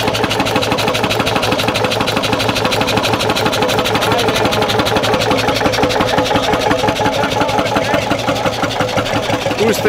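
A glow-head two-stroke diesel dinghy engine, shown at a vintage motor meet, runs steadily with a fast, even, rhythmic chugging and knocking, loud and close for the whole stretch.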